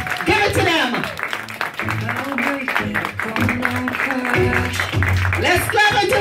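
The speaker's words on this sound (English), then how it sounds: "Let's clap until we see them." Guests clap and cheer to welcome a couple at a family celebration, the applause continuing steadily under music and a host's voice.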